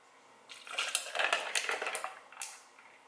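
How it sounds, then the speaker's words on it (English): Coffee is poured over a few ice cubes in a shaker just out of the freezer, giving a bright splashing, crackling pour with clinking ice that swells, fades, then flares briefly near the end. "Shaker, fresh out the freezer, put a few ice cubes in there, and then now pour the coffee."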